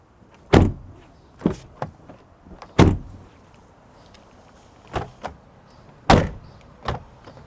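Doors of a 2021 Ford Bronco Outer Banks shut with a series of loud, solid thuds and smaller latch clicks, spaced irregularly across several seconds against a quiet background.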